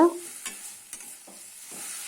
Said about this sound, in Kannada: ಎಲ್ಲವನ್ನು ಚೆನ್ನಾಗಿ ಎಣ್ಣೆಯಲ್ಲೇ ಹುರಿಯಬೇಕು